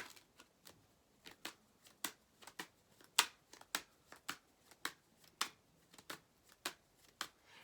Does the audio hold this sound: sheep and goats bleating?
no